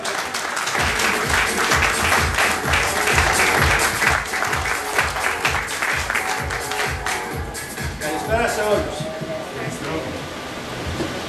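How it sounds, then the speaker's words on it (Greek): An audience at an awards ceremony for a Greece–Cyprus anniversary event applauds loudly and steadily with dense rhythmic clapping that gradually thins out toward the end. "του αξίζει διπλό χειροκρότημα για την προσπάθειά του"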